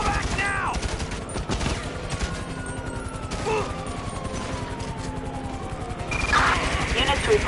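Bursts of rapid gunfire crackle through a GTA heist video game shootout, volleys repeating amid a wailing police siren, with voices talking over the chaos and a louder flurry of shots near the end.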